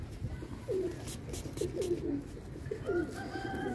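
Pigeons cooing nearby, several soft low throaty coos in short repeated phrases over a faint background murmur, with distant rustling and knocks.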